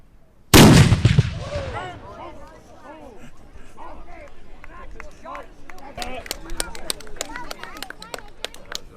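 A historic muzzle-loading cannon fires at Fort George in Niagara-on-the-Lake, one loud booming blast that rings out and decays, followed by a crowd chattering and drill commands being shouted.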